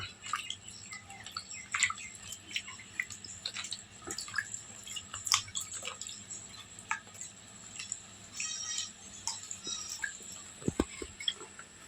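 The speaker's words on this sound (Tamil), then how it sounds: "அடுத்தபடியாக தண்ணீர் தெளிச்சுக்கலாம்" Water sprinkled by hand onto a plastic grow bag planted with tuber cuttings, scattered drips and splashes in an irregular patter over a faint steady background hiss, close and fairly quiet, with no talking.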